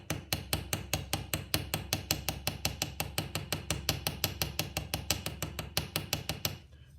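A hammer drives a rivet on sheet metal with a fast, steady run of sharp metallic strikes, about five per second. The strikes are loud and close, with no talk, and stop abruptly at the end.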